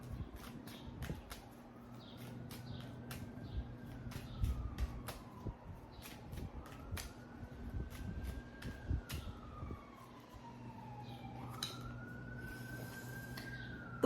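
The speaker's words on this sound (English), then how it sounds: "there is a police car in the back" A police car siren wails in the background, its rising and falling tone sweeping repeatedly over a steady low hum and clatter, distant but clear, with no talking.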